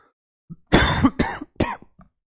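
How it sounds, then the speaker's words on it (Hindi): Three harsh coughs burst out in quick succession, close and loud, with a soft breath before and after. "खांसी बहुत चल रही है"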